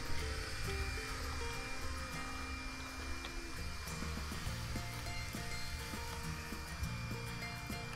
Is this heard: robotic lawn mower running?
yes